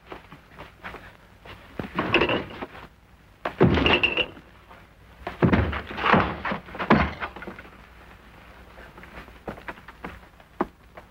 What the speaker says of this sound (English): Force the door open.